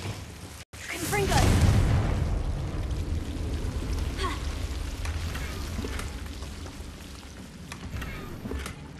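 A Confringo blasting spell erupts in Hogwarts Legacy as a loud, booming explosion with a rumbling tail. Crackling debris follows, with a few smaller pops.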